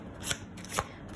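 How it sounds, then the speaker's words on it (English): Tarot cards are shuffled by hand during a reading, with two crisp riffling bursts a half second apart. The sound is close and clear, with no speech over it. "For our dear Aquarius spirit, one more shuffle"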